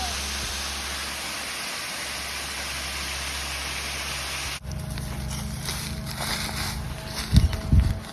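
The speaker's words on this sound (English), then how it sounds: "Best waterfall I've ever seen." A waterfall in an Australian botanic garden gives a steady, close, hissing roar for about four and a half seconds, then cuts abruptly to a quieter outdoor ambience with a few faint knocks near the end.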